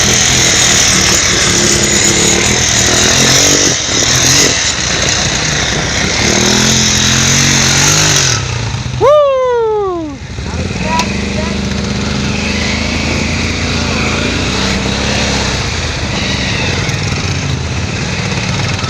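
A Can-Am Renegade 570 XMR ATV engine revs loudly and close, a sustained roar with a sharp rising rev sweep midway, while people talk over it.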